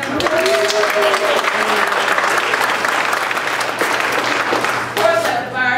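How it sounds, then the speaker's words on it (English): An audience gives a round of applause at an evening coffee house program at a fine arts venue: sustained, loud, dense clapping lasting several seconds, with voices and cheers mixed in near the start and end. "So let's give them a round of applause."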